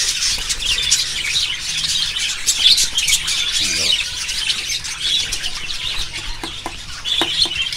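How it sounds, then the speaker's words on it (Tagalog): Rainbow budgerigars in a cage chirping and squawking constantly, a dense chatter of many birds close by, with a voice speaking over them. "Ayan mga kaibon."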